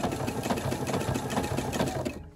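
A sewing machine stitches down the side of a quilt, its rapid, even mechanical chatter running steadily up close before stopping abruptly at the end.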